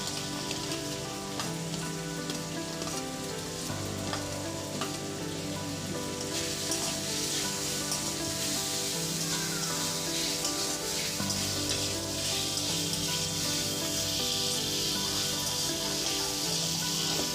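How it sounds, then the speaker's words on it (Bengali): Capsicum frying in a kadai for a vegetarian cauliflower curry, a steady dense sizzle lasting throughout at close range with no talk. "এবার আমি কড়ার মধ্যে ক্যাপসিকামগুলো দিয়ে দেব।"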